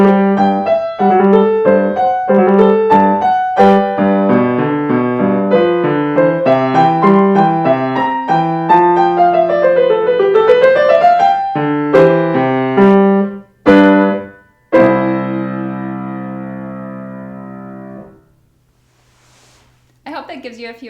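Solo piano playing the last two lines of Bach's Little Prelude in C Major BWV 939 with gentle rubato, clear close notes flowing in phrases that slow, pause and end on sustained final chords.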